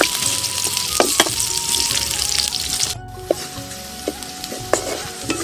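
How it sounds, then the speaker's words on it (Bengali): Steady, dense sizzle of onions frying throughout, with occasional clinks and scrapes of a utensil stirring in the pan. "পেঁয়াজটা অনেকটা ভাজা হয়ে গেছে"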